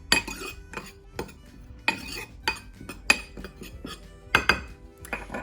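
Chickpea nuggets are tossed with oat flour coating in a bowl, giving a run of sharp clinks and scrapes from a utensil against the dish in an irregular rhythm, close and fairly loud.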